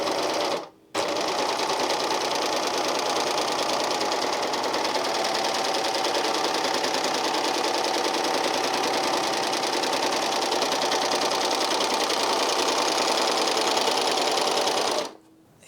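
Janome 8004D serger/overlocker stitching a rolled hem on fabric, a fast steady mechanical whir and chatter running continuously for about fourteen seconds, close and even, with brief stops at start and end.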